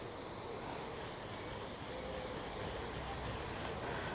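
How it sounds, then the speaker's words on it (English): A lawn sprinkler sprays water in a steady, broad hiss with no pauses or breaks. "then we're going to set the sprinkler going"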